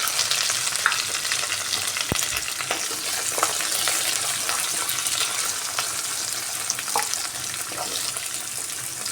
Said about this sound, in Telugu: ఒక రెండు నిమిషాలు వేగనిద్దామండి ఓకే అండి ఎర్రగడ్డలు బాగా వేగిపోయాయి